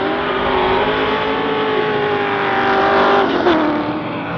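Drift car engines at a D1NZ round in Taupo, with Shane Allen's Rattler Falcon in the battle, revving hard and holding a loud high-pitched roar that swells and pitches up near the end, no voices.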